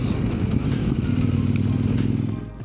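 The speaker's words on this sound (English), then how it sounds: "this bike really comes alive. It accelerates quickly thanks to the torque-rich engine." A Kove 800X GT adventure motorcycle engine accelerating hard, a loud, close, continuous throbbing roar that holds steady and then eases off near the end.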